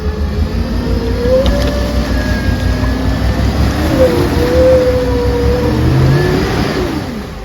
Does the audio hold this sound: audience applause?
no